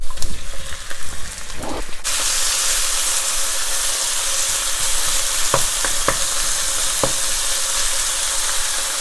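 Pork hits a hot pan of softened onions for kimchi fried noodles, bursting into a loud continuous sizzle after a few seconds of stirring clatter, with occasional spatula scrapes over the steady frying hiss.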